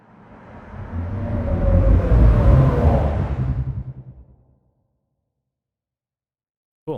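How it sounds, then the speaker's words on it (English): A whale-call sound design layer blended with a heavy bass layer for a Star Wars style effect: a deep, rumbling swell with gliding moaning tones. It builds, roars for a few seconds, fades into silence, and a short thump sounds at the end. "here's what the whale layer sounds like with the bass layer."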